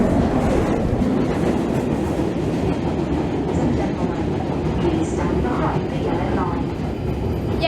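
London Underground Northern Line tube train rumbles steadily at close range, with continuous wheel clatter and rail noise throughout and faint squeals near the end.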